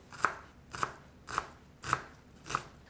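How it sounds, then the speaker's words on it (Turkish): Five sharp, crisp cuts land about half a second apart, each a short crunchy snap of a knife dicing onions on a board, with no voices. "Şimdi soğanları küp küp doğrayacağım."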